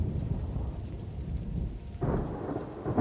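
Loud thunder rolls through a stormy night in Morrowind, a continuous low rumble over steady rain, with a sharper, brighter crack of lightning bursting in about two-thirds of the way through.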